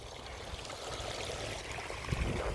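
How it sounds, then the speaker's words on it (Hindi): Irrigation water runs steadily into a bed of a wheat field, a continuous close gurgling flow with no talk over it. "इसी के साथ जो है गेहूं के इस क्यारे में भी पानी चल गया है"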